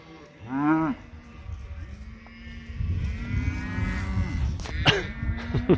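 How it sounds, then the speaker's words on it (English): A cow in a small herd with light winter coats lets out a loud, close moo near the start. Softer lowing and rustling follow, then a final call near the end. "Oh, here comes another cow back."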